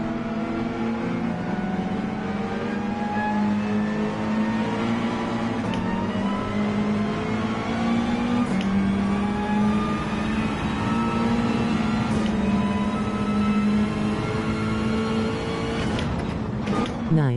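Race car engines from Gran Turismo 7 hold a steady, loud whine with rising and shifting harmonics through upshifts, continuous for the whole stretch without talk.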